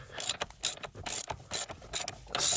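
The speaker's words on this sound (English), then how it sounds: "And then go ahead and take that bolt out." A ratchet wrench backing out a steering wheel bolt during a junkyard clock spring swap, close and loud, clicking in quick repeated bursts of about six or seven strokes with short gaps between them.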